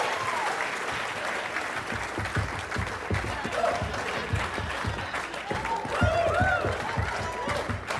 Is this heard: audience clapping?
yes